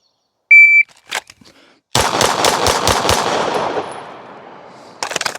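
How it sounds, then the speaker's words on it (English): A timed shooting drill: a shot timer's start beep, then a rapid string of six loud close gunshots with echoing tails, followed by a few more quick shots at the end. "I'm just going to shoot it, record the time"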